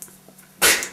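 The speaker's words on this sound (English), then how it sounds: "I want to sneeze." A single close, loud sneeze bursts out near the end after a quiet stretch, from a person during a comedy skit.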